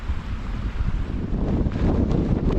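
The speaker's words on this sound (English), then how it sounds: "It's blowing a right gale." Strong wind buffets a microphone on a summit with a steady low roar that surges in gusts, loud and continuous throughout, with no voices.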